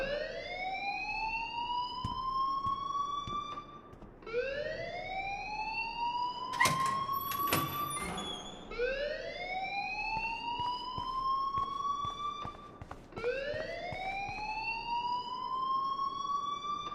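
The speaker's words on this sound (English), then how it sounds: "please turn off that alarm since that's your job" A repeating electronic school alarm in the video game Life is Strange, with four rising whoops that each sweep upward over about three to four seconds, loud and steady, interrupted midway by a brief clattering burst of noise.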